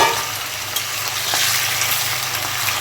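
Prawns frying in hot oil for chingri bhuna crackle and sizzle in a dense, steady wash with faint stirring clicks, close and loud, with no one talking.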